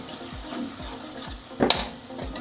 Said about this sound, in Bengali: সমস্ত মশলাগুলি দেওয়ার পর আবারও ভালো করে একটু কষে নেব